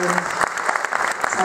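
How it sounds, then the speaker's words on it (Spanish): An audience at an evening show in Córdoba, Argentina, breaks into brief, lively applause. The clapping is close and steady, with a voice speaking at the very start and end. "voy a pedir un aplauso para las mellizas de Oviedo que están acá esta noche"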